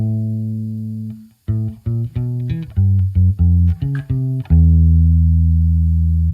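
Bass guitar plays a melody: a held low note, a pause, then a run of short plucked notes ending on a long sustained tone, close and loud with no talking.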